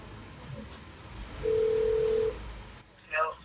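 A telephone ringback tone on an outgoing call, one steady electronic tone lasting under a second, heard over background voices and room noise.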